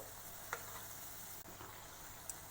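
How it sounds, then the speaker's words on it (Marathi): Kothimbir vadi, Maharashtrian coriander fritters, fry in hot oil with a faint, steady sizzle and a few soft ticks as they are turned. "याला आपण उलटवा, दुसरी साईड आपण तळून घेऊ"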